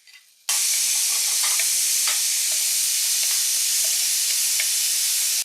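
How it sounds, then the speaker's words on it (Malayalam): Garlic, ginger, kanthari chilli, shallots and curry leaves sizzle steadily in hot oil in a pan, a close, continuous hissing fry with a few light crackles, starting abruptly and running without talk. "വെളുത്തുള്ളി ഇട്ടു, ഒരു കുഞ്ഞു കഷ്ണം ഇഞ്ചി, നമ്മുടെ കാന്താരി, ചെറിയുള്ളി, കുറച്ച് കറിവേപ്പിലയും കൂടെ."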